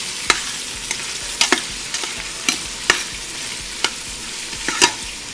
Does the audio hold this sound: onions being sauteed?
yes